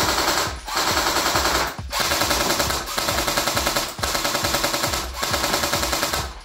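An airsoft gun fitted with an Acetech Bifrost tracer fires normal BBs in rapid full-auto bursts, about six strings separated by brief pauses, close and loud.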